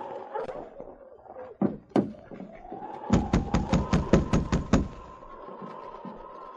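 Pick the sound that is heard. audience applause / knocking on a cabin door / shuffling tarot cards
knocking on a cabin door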